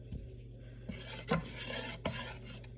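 Butter being stirred in a pot for mac and cheese, a solid block still unmelted, giving a few quiet scraping strokes and light clinks of utensil on metal over a steady low hum.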